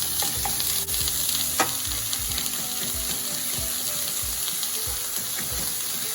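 Thick-cut smoked bacon sizzles steadily in a hot pan as its fat renders for spaghetti carbonara, a continuous close crackle with occasional louder pops and no voices.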